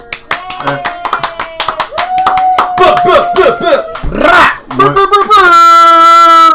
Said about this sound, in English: can we get a round of applause for our girls